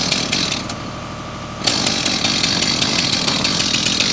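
A chainsaw cuts into a tree, its engine buzzing hard and close with a steady rasp that surges louder partway through as the chain bites into the wood.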